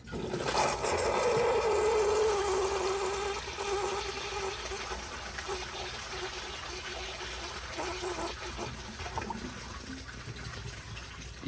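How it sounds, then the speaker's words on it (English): American Standard Baby Devoro toilet flushes on a second attempt with a full tank, a loud rushing, gurgling swirl of water that peaks early and then settles into a steady draining trickle, alone without talk. "Here is another flush."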